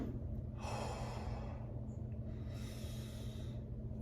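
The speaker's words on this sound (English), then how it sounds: "Big exhale." A big exhale during a total-body workout hold comes as two long, breathy rushes of air, close and fairly loud, separated by a short pause, over a steady low background hum.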